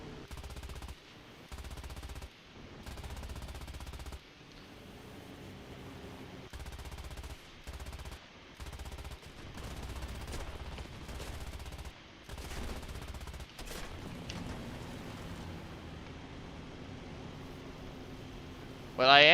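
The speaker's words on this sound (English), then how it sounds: "I'm just gonna have to pepper this guy with bullets" Machine gun fire from aircraft in War Thunder, repeated long bursts of rapid gunfire broken by short pauses, over a constant engine drone, with a louder sound at the very end.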